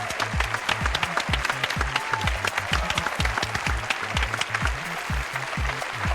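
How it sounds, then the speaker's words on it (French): Applause from a stage audience heard through headphones during a music competition show, dense steady clapping throughout with a rhythmic low thump pattern underneath, moderately loud. "Les applaudissements au casque, c'est fou."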